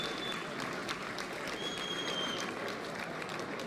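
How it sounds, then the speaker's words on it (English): After a boxing bout, a fairly distant crowd in the hall applauds steadily, a soft continuous clapping wash under faint background noise. "Please, a round of applause to both boxers in that contest."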